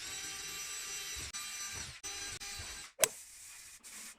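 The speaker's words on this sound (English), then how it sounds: "Then I'm going to use 5mm drill bit to drill out the holes." A 5mm drill bit bores holes through a tufted storage bench panel in steady, loud whirring bursts that stop and restart several times, with one sharp click near the end.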